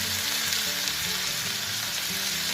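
Buff keema noodles sizzle in a pan with a spoonful of soy sauce, a dense, steady hiss of frying up close with no talking.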